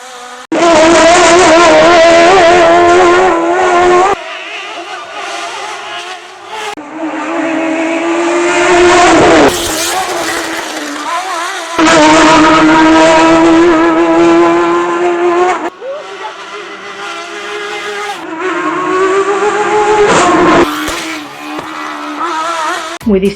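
Single-seater race car at the Subida a Borja hillclimb, a Group 2 prototype driven by Carlos Archiles, screams loudly through repeated high-revving runs with sharp gear changes, dropping off and surging back several times.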